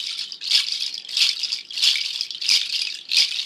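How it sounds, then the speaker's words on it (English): An ankle rattle made of seed pods is shaken in a steady rhythm, about five crisp, dry swishing bursts, close and alone. "I also picked up this little gem, and this is an ankle rattle."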